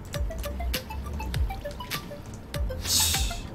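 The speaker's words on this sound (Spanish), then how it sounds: "Es una cascada, tío, en Minecraft." Minecraft waterfall water flows with a busy pattern of bubbly drips and plinks, some with small pitch glides, over a soft steady wash, with no voices.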